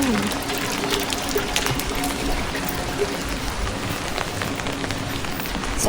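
Rain falls steadily on outdoor surfaces in Stockholm, Sweden, a constant close patter with scattered heavier drops, while voices murmur faintly in the background.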